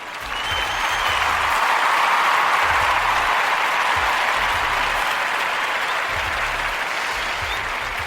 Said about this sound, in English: Let's clap on that, y'all.